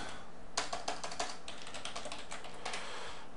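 Rapid keystrokes on a computer keyboard as a password is entered on an Ubuntu 12.04 server, a burst of close, crisp clicks in quick irregular rhythm with no talking.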